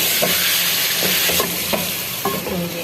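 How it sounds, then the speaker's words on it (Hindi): Spices and potatoes fry together in a pan for a dhaba-style egg and potato curry, loud close sizzling punctuated by several sharp spoon scrapes as everything is mixed. "और अब ये सारे मसाले ऐड कर दिए हैं, अच्छे से मिक्स कर रहे हैं।"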